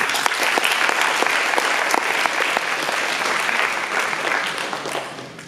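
Audience at a sports banquet applauding steadily, dense overlapping claps with a few sharper near hand claps, fading slightly toward the end.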